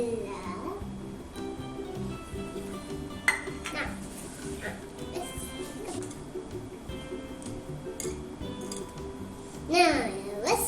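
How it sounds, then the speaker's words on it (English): Hand whisking of cake batter for a brain-shaped cake, a utensil clinking and scraping in a bowl at moderate level beneath a child's chatter, with a brief louder clatter near the end. "Now, whisk it up."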